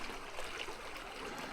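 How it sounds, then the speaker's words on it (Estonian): A fast-flowing river current gurgles and rushes in a steady, quiet wash of water, close and continuous, with no one talking. "Vool on päris kiire."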